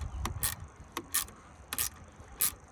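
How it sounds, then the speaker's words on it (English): A ratchet wrench snugs down the top mounting screw on a 1995 Lexus LS400 side mirror: four short clicking bursts spaced about half a second apart, close and moderately loud, with no talking. "I'm just ratcheting down the top one now"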